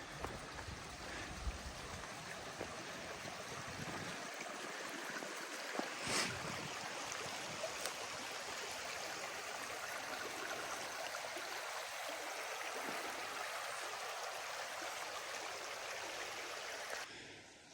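Steady broadband rush of creek water flowing along a park trail, continuous and fairly close, with no voices over it.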